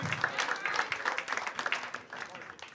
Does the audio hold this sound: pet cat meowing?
no